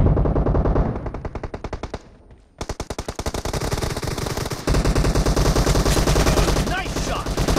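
M416 assault rifle firing in Battlegrounds Mobile India: loud, close, rapid automatic bursts with a short pause before sustained rhythmic fire resumes, dense and continuous throughout.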